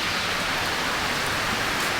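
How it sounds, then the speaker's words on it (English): Heavy rain pouring down near Airlie Beach, Australia, a dense, steady hiss of drops beating on surfaces, loud and unbroken throughout. "it's raining a lot."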